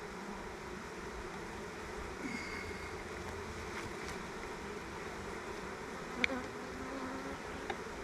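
A steady, dense insect hum fills the whole stretch, many honeybees buzzing together in a queenless hive, with a couple of faint clicks near the end.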